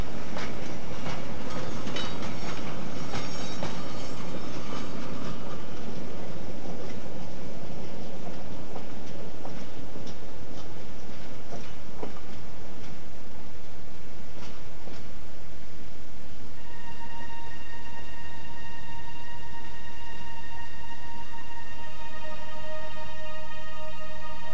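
A Number 5 locomotive hauls a string of cars tender first half a mile uphill toward a quarry, giving a steady close rumble with rhythmic clanks and clicks, joined later by sustained squealing tones.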